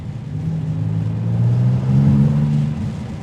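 Maserati MC20 in GT mode at full throttle on a rainy road, engine revving high with a strong, rising mid-pitched drone that swells and holds, loud and close.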